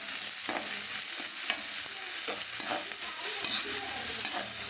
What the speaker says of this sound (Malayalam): ചേർത്ത് നമുക്ക് ഇട്ട് വറുത്ത് കൊടുക്കാം